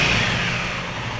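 Motorcycle engine idling, heard from the rider's seat without sound-dampening insulation, a steady loud low rumble with a droning hum that holds evenly throughout.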